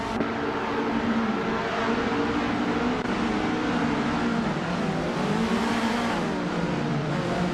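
AI race cars competing in a racing video game: loud, continuous engine drone with shifting, overlapping engine tones as the cars rev and jostle, no speech over it.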